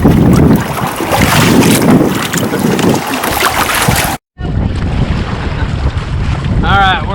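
Heavy wind buffets the microphone on a Hobie kayak sailing offshore in sporty conditions, steady and loud with waves underneath, broken by a brief dropout.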